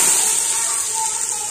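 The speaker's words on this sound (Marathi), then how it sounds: "फोडणीमध्ये टाकूया म्हणजे छान फ्राय होतील" Bay leaf, cinnamon and peppercorns hit hot oil in a tempering for katachi amti, giving a loud, close, continuous sizzling hiss with no pauses.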